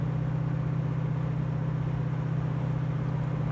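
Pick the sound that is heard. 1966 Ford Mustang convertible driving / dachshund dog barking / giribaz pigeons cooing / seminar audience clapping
1966 Ford Mustang convertible driving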